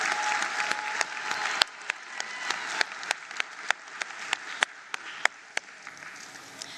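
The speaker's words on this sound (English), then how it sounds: "Let's give him a round of applause." Steady audience applause at a matric results announcement, with sharp individual claps standing out above the crowd, continuing at a moderate level throughout.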